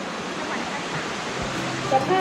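Steady, rushing water roars as a constant wash of noise from a tier of Erawan Waterfall in Erawan National Park, Thailand, without any clear voices.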